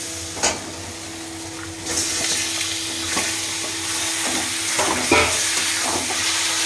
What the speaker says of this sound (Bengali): লোটে মাছগুলো দিয়ে সুন্দরভাবে কষিয়ে নেব